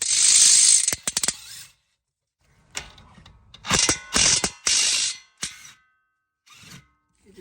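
A ratchet loosens the 22 mm brake caliper bracket bolts on a 2013 Nissan Pathfinder during lower control arm work, giving several bursts of rapid close metallic clicking with short pauses between them and no talk.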